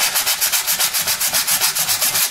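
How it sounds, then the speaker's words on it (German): Fine 600-grit sandpaper rubs over the filler edges on an interior wall, giving about fifteen even, rhythmic scratchy strokes, close and loud with no talk. "noch hier ganz leicht mit einem feinen Schleifpapier abschleifen"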